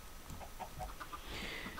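Chickens cluck on a small farm in the Minecraft video game: faint, soft, short clucks that recur irregularly over a quiet background.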